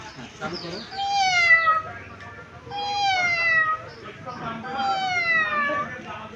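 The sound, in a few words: child imitating a cat meowing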